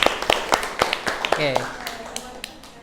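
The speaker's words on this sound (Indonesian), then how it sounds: "tepuk tangan buat kita semua" A handful of sharp claps from students in a classroom ring out in a loose rhythm, close and fairly loud, with a voice speaking briefly in the middle.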